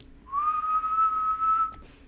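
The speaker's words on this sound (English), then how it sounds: "I can whistle into it too." A single clear, steady whistled tone held for about a second and a half, recorded into a Teenage Engineering OP-Z synthesizer's sampler, close and alone with a faint click at the end.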